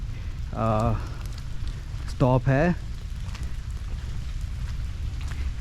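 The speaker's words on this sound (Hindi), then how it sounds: "अब तो बारिश होने लगी तो इट्स स्टिल बेटर" Steady rain patters throughout at the Angkor temples in Cambodia, with a person speaking briefly twice over the constant wash of falling water.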